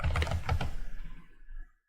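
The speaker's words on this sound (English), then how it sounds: "type the IP address of the server" Quick keystrokes on a computer keyboard while entering an IP address into a router interface, a brief close run of clicks ending in a final press, then silence.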